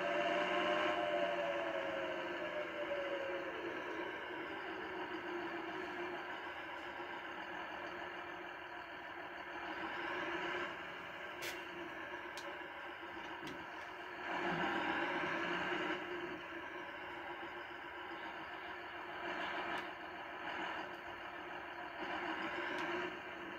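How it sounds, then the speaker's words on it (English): A modified farm tractor running fast, its engine giving a steady mid-to-low drone that swells and eases over about twenty seconds, fairly faint and heard from inside or nearby. "this is a modified tractor. It's not supposed to go this fast."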